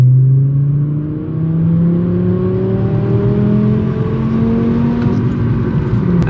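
Diesel 6.7 Powerstroke truck engine revving steadily in second gear, a loud close drone whose pitch climbs gradually as it accelerates, with no talking.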